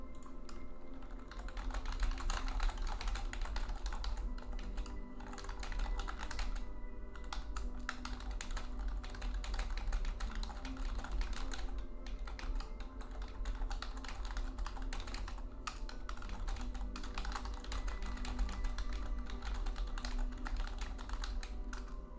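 Steady typing on a computer keyboard during a live day-trading session, dense continuous clacking of keys running throughout at a constant moderate level, with no talking.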